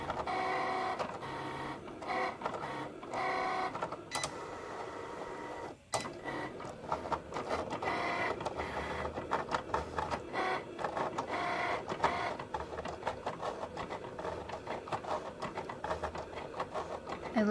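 Cricut cutting machine slicing mirrored heat transfer iron-on vinyl, a quiet whirring, clicking motor with quick back-and-forth carriage movements and short pauses, steady and faint throughout.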